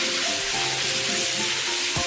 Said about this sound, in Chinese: 炒锅用油下五花肉煸香